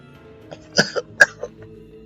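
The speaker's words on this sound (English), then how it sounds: "The smell inside was overpowering and I felt a coughing fit." A person coughs in a short fit while breathing sweet incense smoke in the video game Steam Prison, with three or four sharp throaty coughs over low background music and no speech.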